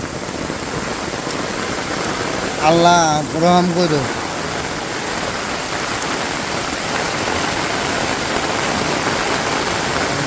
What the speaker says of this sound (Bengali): এরকম জোরে যে বৃষ্টি নামবো এটা কল্পনাও করা পারি না